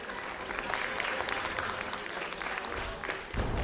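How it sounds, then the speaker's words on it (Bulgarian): An audience claps steadily at a children's competition awards ceremony, dense and continuous, fairly distant, ending as the applause fades and a new sound begins near the end. "Аплодисменти"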